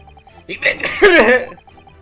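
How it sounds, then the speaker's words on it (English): A sneeze in the middle of a short exchange of voices from an Ace Attorney courtroom game: a loud, close burst with a voiced vocal shape, between quieter tones and speech. "You make me want to sneeze."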